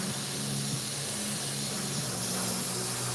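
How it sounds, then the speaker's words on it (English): An airbrush spraying lacquer, a continuous close, even hiss of air and paint mist running throughout, with a faint low hum beneath. "I spray lacquer through all my airbrushes"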